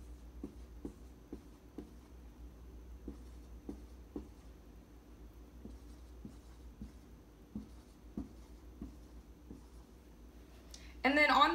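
A pen taps dots onto paper in a quiet room, a rhythmic series of faint, short ticks about half a second apart, ending with a brief louder rustle.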